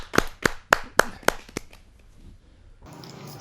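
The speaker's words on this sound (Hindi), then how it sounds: "जरा जोरदार ताली के साथ हम स्वागत करें डॉक्टर विभा प्रकाश" An audience at a televised Hindi poetry gathering welcoming a poet, six sharp close claps at a steady beat that die away into quiet room noise, then a new sound starts.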